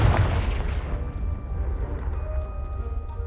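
A Confringo blasting spell set off in Hogwarts Legacy bursts into a loud, deep boom at the start, then rumbles and decays over a few seconds, with faint tonal game effects lingering afterward.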